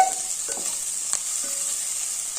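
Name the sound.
stirring frying food in a pan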